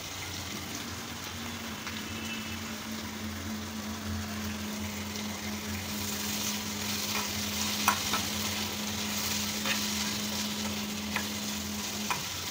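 Vegetables with grated fresh coconut cooking in a pan, a continuous close sizzle with occasional stirring scrapes and clinks over a steady low hum, no voices.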